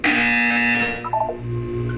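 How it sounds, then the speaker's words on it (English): Buzzer from the video game Portal 2 sounding alone, a loud sustained electronic tone for most of the clip before breaking into a few shorter wavering tones near the end. "You will hear a buzzer."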